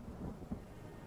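A low rumble of summer monsoon thunder with heavy rain in the American wild: one brief, faint, muffled roll with a soft swell in the middle, heard alone.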